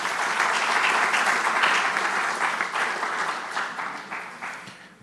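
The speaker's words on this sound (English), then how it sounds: "Let's have a round of applause for her." An audience claps for someone speaker at a live panel on music copyright and creativity, producing a sustained, dense round of applause that stays strong before tapering off toward the end.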